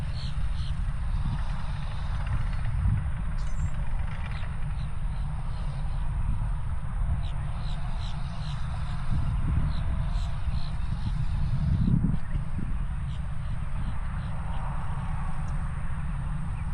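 A small aircraft engine runs steadily before takeoff around the Sun N Fun airshow grounds, a close, unbroken droning rumble throughout with occasional faint background sounds.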